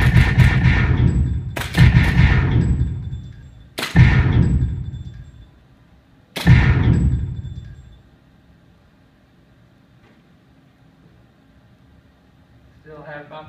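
Four sharp pistol shots ring out at a target practice range, loud and spaced a couple of seconds apart, each decaying quickly, followed by a quieter stretch with faint background noise.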